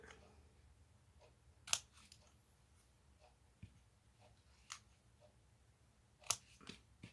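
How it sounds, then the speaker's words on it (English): Snips cutting through paper on a card-making project, heard as two sharp, isolated snip clicks a few seconds apart against a very quiet room. "Just take your snips and snip up there"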